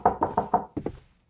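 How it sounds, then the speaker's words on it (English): Six sharp knocks on a door in two quick groups of four and two, close and fairly loud, ending in a short silence. "don't constantly knock on the door like that"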